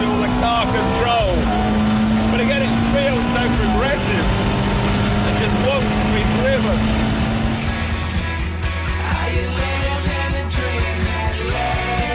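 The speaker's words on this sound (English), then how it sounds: "give the back out, get the front in, then punch the throttle" A Ferrari 430 Spider engine roars loud and close under full throttle, the pitch climbing, dropping briefly and rising again through gear changes, with someone talking over it.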